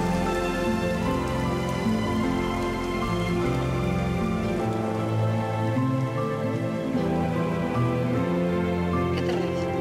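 Steady rain falls throughout, a dense even patter holding at constant loudness under a layer of background music, with no talk.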